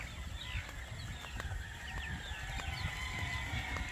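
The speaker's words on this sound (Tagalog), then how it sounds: "ito po ang inyong mga sisiw" Many small chicks, a fresh batch of hatchlings, cheep in a steady high-pitched chorus of overlapping peeps, close and continuous, with faint low rumbling beneath and no talking.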